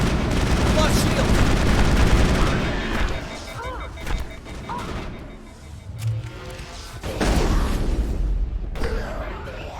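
Gunfire in the Mass Effect video game: loud bursts of shots and blasts, dense for the first few seconds, then scattered impacts and a lull before another heavy volley, with faint game voices underneath.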